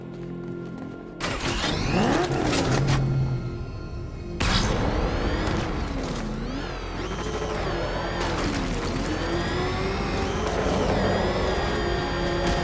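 A car driving in the Batman Arkham Knight video game on PS4, with a loud, steady engine roar running throughout, shifting pitch as it accelerates, plus a sharp break and crashing noises early on.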